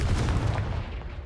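A Confringo spell blast in the Hogwarts Legacy video game, a heavy, booming explosion with rumbling debris that fades over about a second, loud and close.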